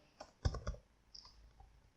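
A few sharp keystrokes on a computer keyboard while web code is typed, sounding as a short, uneven cluster of three or four close clicks followed by quiet.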